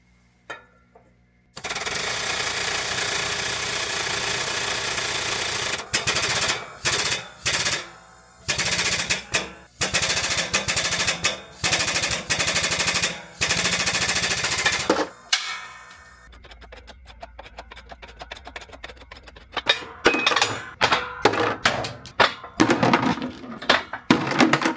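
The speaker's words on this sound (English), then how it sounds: "I'm just going to push them out with my shop press" A shop press forces wheel studs out of a brake rotor: loud, harsh grinding and rattling bursts, stopping and restarting in choppy segments, then lighter scattered clanks and knocks.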